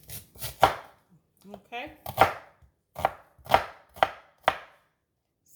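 Knife chopping through an onion on a cutting board in a home kitchen, a run of about eight crisp, close chops in an uneven rhythm, with a brief spoken word partway through.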